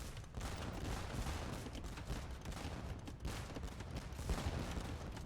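Organ guns firing in Age of Empires during a Portuguese versus Goths match, a dense, steady crackle of rapid volleys that stays loud and continuous without a break.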